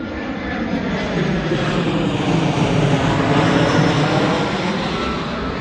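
A loud, steady roar of an airplane engine from aircraft passing close to a campervan parking spot, filling the whole stretch with no voices.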